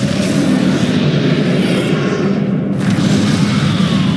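Confringo fire spell blasting in the Hogwarts Legacy video game, a loud sustained rumbling roar of fiery explosions filling the whole moment with a dense, booming low end.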